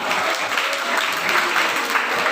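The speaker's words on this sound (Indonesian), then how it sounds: "Tepuk tangan untuk semuanya" Brief, dense applause for the contestants at a female students' religious-text competition final at a dayah, a steady wash of many hands clapping nearby.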